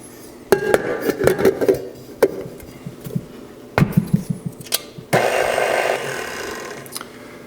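Naan dough being mixed with flour in a bowl, uneven bursts of knocking and clinking from the utensil against the bowl, then a rougher steady scraping toward the end.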